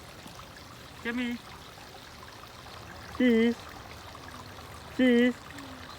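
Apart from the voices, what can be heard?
small stream trickling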